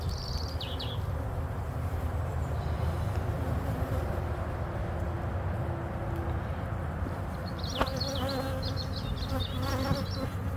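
Honeybees buzz in a dense, steady drone during a hive inspection, with a few faint bird chirps in the background.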